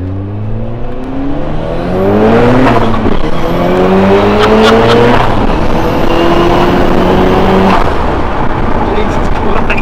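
Ford Escort Cosworth making over 550 bhp revs hard under turbo boost, loud and close, its engine note climbing in repeated rising sweeps through gear changes, with talk inside the car over it.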